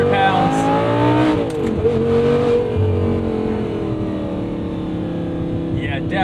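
A 2011 Audi R8 V10 Spyder with a gated manual gearbox, its engine droning loudly and steadily from inside while driving, rising slightly in pitch early on before settling.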